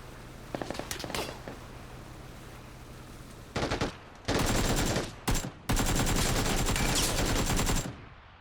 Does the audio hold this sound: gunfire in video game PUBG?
yes